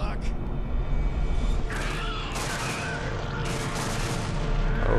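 Thunderous DNA bomb blast in the shooter game Bulletstorm, a sustained roaring rumble with crackling bursts and surging waves of noise, loud and continuous throughout, with voices talking over it.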